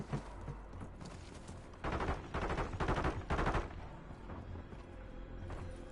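Gunfire in the Call of Duty Warzone battle royale game, several bursts of rapid automatic shots with a loud cluster in the middle, over constant background game noise.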